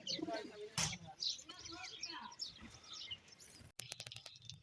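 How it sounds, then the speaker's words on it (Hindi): Pigeons coo and chirp at a village pigeon coop in midday sun, faint and scattered calls with possible wing flutters, while a person talks over them. "यहाँ कबूतरों का खोखा है"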